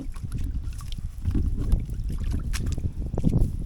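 Wind rushes over open water at a small boat during shrimp netting, a steady roar of microphone buffeting that swells in gusts, with faint water movement beneath.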